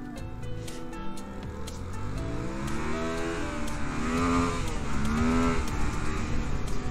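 A motorcycle engine runs without its exhaust, a loud, raw, blatting drone that swells as it is revved twice, with a faint rattle over the top.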